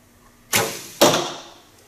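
Two arrows are loosed in turn from a traditional bow during an NFAA 300 archery round, each a sharp, close swish with a short fading tail, about half a second apart.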